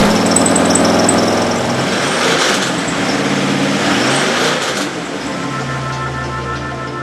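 A Corvette engine of about 400 to 430 horsepower runs loud and steady, its throaty mechanical roar swelling and easing slightly before settling into a lower, even drone near the end.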